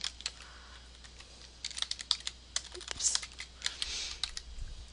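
Computer keyboard typing as a caption is entered in slideshow software, a steady run of close, crisp key clicks with uneven rhythm over faint background hum.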